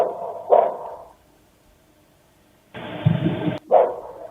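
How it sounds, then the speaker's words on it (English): A dog barks in short, separate bursts, one early and then a pair near the end, with a long quiet gap between them; the sound is muffled and narrow, as if heard from a distance or through a recording. "It's just barking and barking."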